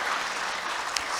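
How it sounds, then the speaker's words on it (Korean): A congregation at a Korean Sunday worship service applauds in a brief, steady wash of clapping heard from a distance, with one sharper clap near the end. "우리 한번 그분들을 위해서 박수 한번 해주시겠습니까?"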